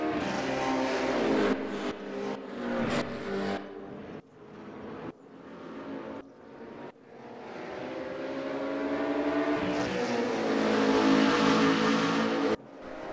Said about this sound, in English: That Corvette is much stronger here than the McLaren 650S of Alan Angel.